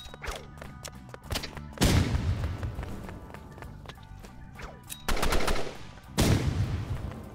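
Rapid bursts of automatic gunfire in the video game Roblox Rivals, loud and close, with short pauses between volleys and a dense crackle of shots throughout.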